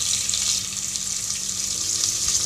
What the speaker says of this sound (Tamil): இது நம்ம நல்லா வதக்கிட்டு கொஞ்சம் கலர் சேஞ்ச் ஆனதுக்கப்புறம்